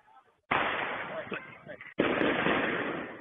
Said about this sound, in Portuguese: Esse vídeo mostra o momento em que eles saem do banco e dão tiros para o alto.